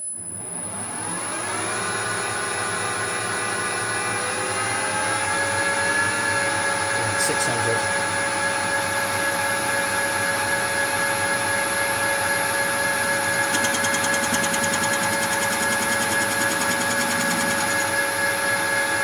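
Metal lathe taking a facing cut on bronze at 600 RPM, steady whining machine drone with a sustained high tone, constant and close throughout.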